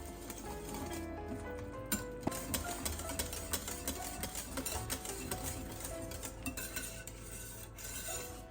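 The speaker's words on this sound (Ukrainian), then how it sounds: "Влила до шоколаду. Я чомусь не зняла цей кадр. І все перемішуємо до однорідності." Hot cream is stirred into white chocolate for a mousse cake, giving a steady scraping and clinking of a utensil against a bowl with small sharp knocks, close by and continuous with no talk.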